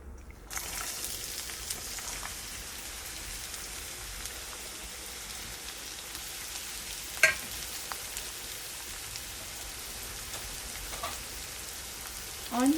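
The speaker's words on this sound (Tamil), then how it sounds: "ஆனியன் போட்டு கொஞ்சமாக ஃப்ரை பண்ணிக்கோங்க." Onions frying in a pan for Tirunelveli-style kothu parotta at home, a steady soft rain-like sizzle running throughout with a couple of brief stirring clinks, fairly quiet and alone without talk.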